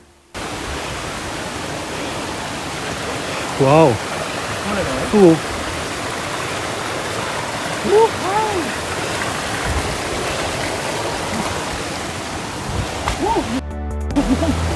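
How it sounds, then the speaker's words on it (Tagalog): Steady rushing roar of falling water fills the scene, broad and constant, while a few short exclamations of awe rise above it. "mabatian mo na ang huni sa nagakahulog na tubig"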